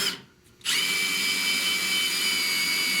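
A power drill bores out a spot weld on the rusty window channel of a 1970 Buick Wildcat, starting after a brief pause and then grinding steadily and loudly to the end.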